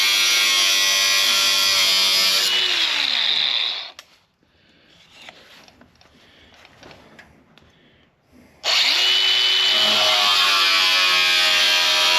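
A cutting wheel slices into metal on a Chevelle body with a loud, high grinding whine, stops for several seconds of quieter handling noise, then bites in again just as loud.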